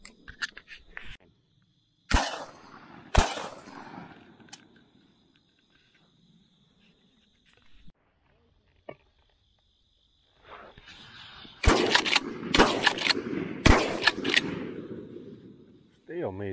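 Shotgun blasts on an opening-day dove hunt in open country, two loud sharp shots early and a rapid cluster of three or four more later, with hunters talking between volleys and insects buzzing in the background.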